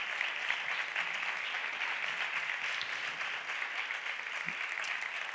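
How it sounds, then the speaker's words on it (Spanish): An audience at a flamenco singing contest final applauds a regional delegate with a continuous, full round of clapping. It holds steady, then eases slightly toward the end. "Un fuerte aplauso para ella."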